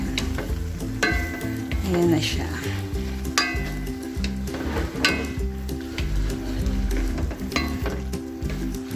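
Pork and chayote cook in a pot with a steady bubbling sizzle. A utensil stirs and clinks against the pot throughout, with a person speaking briefly over it.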